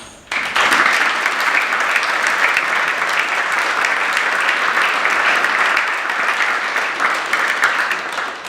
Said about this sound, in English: Can I ask for a round of applause for these members?